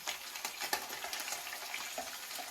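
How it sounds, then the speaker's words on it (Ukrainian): Steady sizzling of liver frying in butter in a hot pan, with crackling pops and occasional clicks of stirring, continuous and close. "Я вже сюди смажу."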